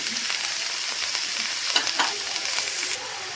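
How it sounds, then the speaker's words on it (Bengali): Mustard seeds tempering in hot oil for a radish dish, crackling and sizzling continuously up close, with a few sharper pops scattered through. "সর্ষে ফোড়ন দিলাম"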